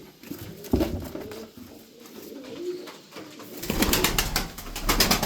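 Tumbler pigeons coo softly while pecking leftover feed off the ground, with low repeated coos up close and a patter of movement growing louder toward the end.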